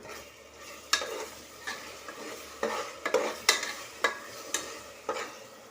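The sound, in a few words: sautéing ginger garlic paste with tomato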